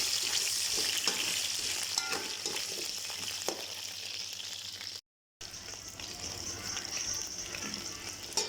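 Onions sizzle and crackle steadily in hot oil for a Yemeni chicken majboos, with the occasional scrape of stirring throughout. A brief dropout of silence cuts in partway through, and the frying resumes at the same level afterward.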